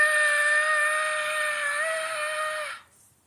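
A boy screams in a cave, one long sustained high-pitched cry held steadily for nearly three seconds before cutting off into silence.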